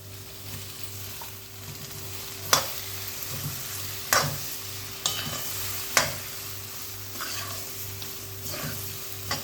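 Spinach puree for palak rice hisses and sizzles steadily in a hot pan, with a spoon scraping and stirring in regular strokes every second or so, close up and without talk.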